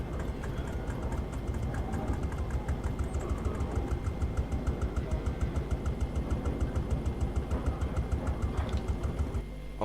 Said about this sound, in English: If I start this up, can you hear the tractor?